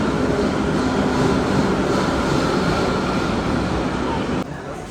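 A Baku metro underground train rumbles steadily and loudly through a station, with a continuous roar that drops off suddenly near the end.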